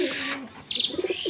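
Home-bred pigeons kept at a house coo close by in a few short, throaty bursts, with brief chirpy tones in between.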